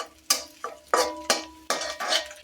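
Pasta being fried and stirred in a pan, with a series of sharp scraping and clinking utensil strokes against the pan in an irregular rhythm, close and fairly loud, over a faint sizzle.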